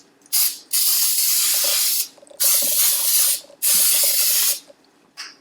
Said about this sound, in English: So I like to use the baking cooking spray